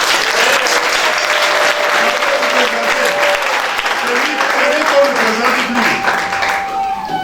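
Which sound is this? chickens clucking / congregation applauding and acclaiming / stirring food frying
congregation applauding and acclaiming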